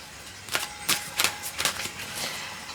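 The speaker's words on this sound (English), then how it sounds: "I'm going to shuffle this a bit more" A deck of tarot cards is shuffled up close, giving a short run of about six crisp, quiet riffling snaps at an uneven rhythm.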